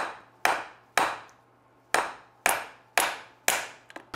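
A hammer strikes a socket seated on a bearing cap during a Toyota Tacoma carrier bearing replacement, giving seven sharp metallic taps at a steady, unhurried rhythm, each ringing briefly before the next, with a couple of lighter taps at the end.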